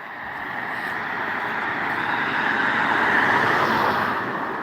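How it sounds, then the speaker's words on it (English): Road traffic rushes past nearby, a continuous broad roar that swells and then eases slightly, with no voices. "when there's cars coming past, you can't hear it"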